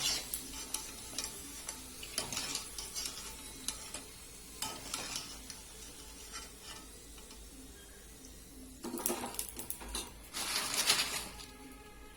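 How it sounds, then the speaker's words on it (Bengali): Fuchka (panipuri) puffing in hot oil gives a soft, quiet sizzle with scattered clicks and stirring noises, building to a couple of louder bursts of frying near the end. "আবারও তেলে দিয়ে দিচ্ছি ফুচকা।"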